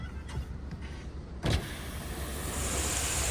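A car's electric window hums as it lowers, a brief motor whir after a short knock, with a steady outdoor hiss and no talking.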